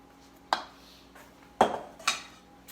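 Sliced apples stirred in a bowl, three distinct clinks and scrapes of a utensil against the bowl, close and fairly quiet, separated by short pauses.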